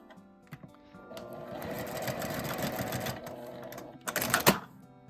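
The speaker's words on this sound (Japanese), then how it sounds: "押さえたらクリップを外して縦に縫います。" A sewing machine runs in one steady burst lasting about three seconds, stitching a fabric makeup bag up its side. Its motor whirs close by, with a few clicks and a short rattling flurry after it stops.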